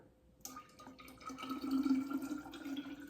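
Water trickles and splashes steadily into a sourdough starter in a container, close by and fairly quiet, starting abruptly after a short silence.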